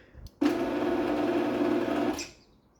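A Genie 810 trac drive garage door opener runs along its rail with a steady motor whine and hum lasting about two seconds, starting abruptly after a soft knock and then winding down to a stop.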